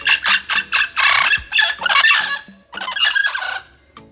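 A mealy parrot at a zoo gives a rapid run of loud, raspy squawks and chattering calls up close, in bursts with short gaps and a longer harsh call at the end.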